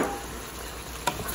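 Pork belly stir-frying with garlic and the white part of green onion over high heat, a steady broad sizzle throughout with a brief sharper clatter near the end.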